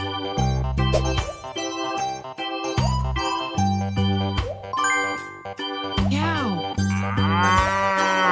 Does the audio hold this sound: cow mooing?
yes